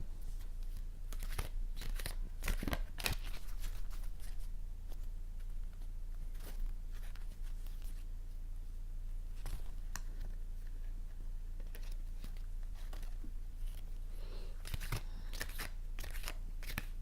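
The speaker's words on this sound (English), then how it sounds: "Shuffling." Rapid papery riffling and flicking, repeated in bursts over a steady low hum, with crisp slaps of cards falling together.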